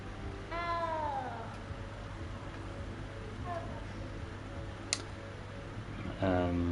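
A cat meowing in the wizarding game Hogwarts Legacy, with a few separate plaintive meows spread across a quiet stretch over a low steady hum, plus a brief click and a louder meow near the end.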